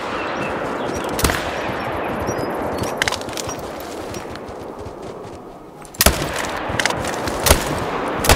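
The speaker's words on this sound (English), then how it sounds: "I shot it 3 times in a row." Gunshots in the hunting game Call of the Wild crack out over steady outdoor ambience, three distinct loud reports spread apart with a few fainter clicks between.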